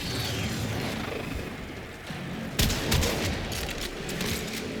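Weapon fire in the sci-fi shooter Warframe crackles through a busy wash of game noise, with a sharp loud burst just past the midpoint followed by scattered shots.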